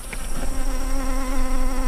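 Honey bees swarm around a line of sixty hives in African modern beekeeping, a dense, continuous buzz that stays loud and close throughout with no voices.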